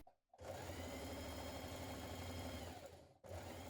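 A sewing machine stitches the left skirt panel of a spring dress to the back piece. It gives a steady, quiet mechanical whir for about three seconds, then stops briefly and starts again.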